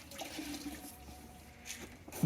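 Water squeezed from a tile grout sponge splashes and trickles briefly into a bucket, a soft, fairly close wet spill with a louder splash at the end.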